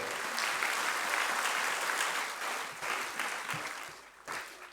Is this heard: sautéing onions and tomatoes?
no